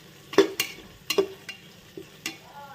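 Spices being stirred in a pan for veg pulao: a few separate scraping strokes of a spoon against the pan with faint sizzling between them, close and fairly quiet.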